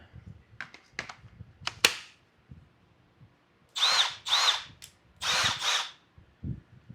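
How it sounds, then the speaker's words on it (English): A Makita sander from a garage sale haul whirs in two pairs of short, fairly quiet bursts, preceded by scattered clicks and knocks. "Glad I got that Makita sander."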